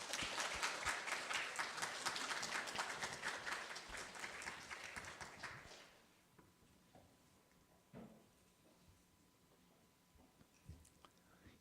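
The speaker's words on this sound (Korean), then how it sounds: "박수 한번 하겠습니다." A church congregation applauds steadily for several seconds during a Christmas service, then the clapping dies away into a quiet room with a few small knocks and rustles.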